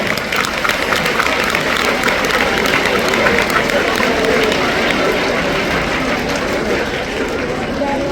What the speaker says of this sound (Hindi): अपने लिए ताली बजा के दिखाओ